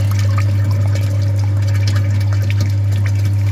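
Water rushing steadily through a filter in the cooling system of a Hyundai Sonata LF during a flush of a very dirty, neglected system, with a constant pump-like hum underneath, close and continuous.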